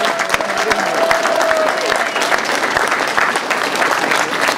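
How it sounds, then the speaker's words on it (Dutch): Audience applause for the runner-up of a village road race, a dense steady clapping crowd close by, carrying on without a break from start to finish. "uw applaus voor Lisbeth de Vocht."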